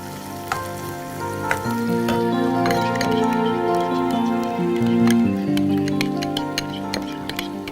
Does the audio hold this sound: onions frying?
yes